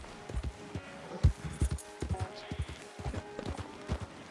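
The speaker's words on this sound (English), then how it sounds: "I love it when the horses jump" Horse hooves clip-clopping in Red Dead Redemption 2, a steady run of close, distinct strikes with a few heavier thuds mixed in, over faint background game ambience.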